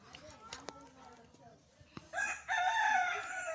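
A rooster crows loudly in a rural village beside a pond where ducks and chickens are kept, the long crow rising after some soft clucks and sharp clicks.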